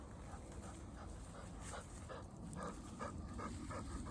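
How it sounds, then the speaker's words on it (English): A dog on an off-grid elk-hunting trek in the woods pants quickly and lets out a few soft whimpers, faint over a rough outdoor background. "It's a good dog."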